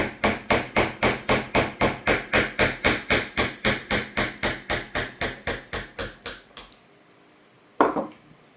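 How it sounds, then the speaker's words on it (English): A hammer taps a brass body into place on an RC submarine build, with about twenty-five quick, even, ringing metallic strikes in a steady rhythm that stop suddenly, followed by one last isolated knock. "You grab me a hammer, bud? Yep. Beat it into submission. And tap it out."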